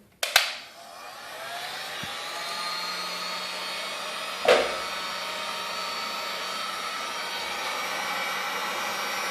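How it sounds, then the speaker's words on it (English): A heat gun set to high, used to soften headlight glue on a Kawasaki ZX6R 636 or Ninja 300, snaps on with a click and then blows a steady, even whooshing roar, with one brief knock midway. "So turn on the heat gun on high setting."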